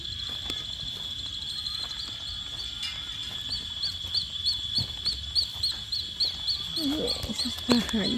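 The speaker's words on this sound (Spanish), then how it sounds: "qué clase de pajaritos son, que solo hacen pipi pipi pipi" Small birds chirp in quick, repeated high peeps over a steady insect-like drone, with faint rustling and movement nearby.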